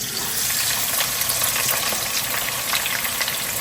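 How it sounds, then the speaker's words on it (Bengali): Chopped onions dropped into hot oil fry with a loud, dense, continuous sizzle that holds steady throughout, close and alone without any speech. "হ্যাঁ তেলটা গরম হয়ে গেছে এখন এতে আমি দিয়ে দিব বেশ কিছু পেঁয়াজ কুচি"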